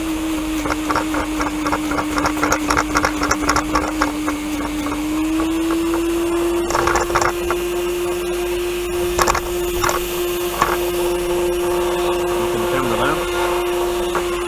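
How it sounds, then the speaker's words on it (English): A rotary grinder shapes EVA foam spikes, holding a steady motor whine with a rough, fluttering grinding texture that shifts as the piece is turned and rocked, loud and close throughout. "Always turning while you're grinding, rock it from side to side, watching it as you grind."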